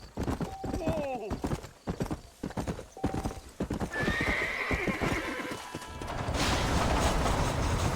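Horse hooves clip-clop steadily in Red Dead Redemption on PS4, with a sharp whinny early on, while voices talk over the riding and the hoofbeats thicken into a louder trot toward the end.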